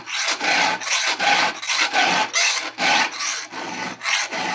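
A hand file rasps across the teeth of a Stihl 034 AV chainsaw chain in about nine even, loud back-and-forth strokes, close up and with no other sound.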